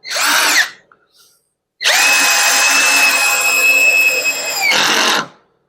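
A cordless drill driver in first gear drives a 2-inch screw into hardwood, with a brief whir followed by a long, loud, steady motor whine that drops as the screw seats.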